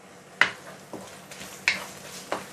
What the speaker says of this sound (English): So you're going to saute this for about a minute or two before we continue.